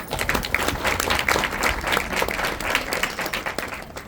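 Audience applause at a devotional gathering for Shani Dev, a steady wash of many hands clapping together for about four seconds with no voices over it.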